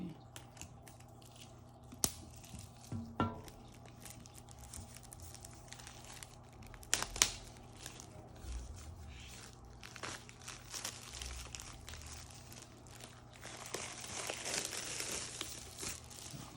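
Plastic wrap being pulled off an iPad Pro 4th generation 12.9-inch 1TB box: scattered sharp crinkles and tearing bursts, then a longer stretch of steady rustling near the end, close and moderately loud.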